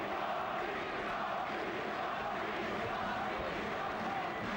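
At a professional boxing match, a WBO super middleweight title fight, a large arena crowd roars and cheers continuously for the hometown fighter, a dense, sustained wall of noise with no break.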